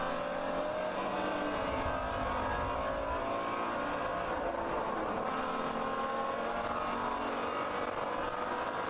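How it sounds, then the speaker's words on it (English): A Mustang race car engine screams at high revs on the Road America circuit during an endurance race, a sustained loud drone with no voices over it. "You can just hear that Mustang screaming."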